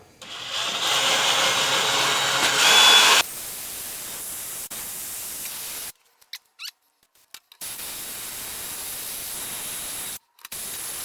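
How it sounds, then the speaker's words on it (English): A drill whines with a harsh steady buzz for a few seconds as a handheld drill bores a hole for a bolt, then cuts off, followed by quieter background noise and brief dropouts. "Okay, I drilled a hole."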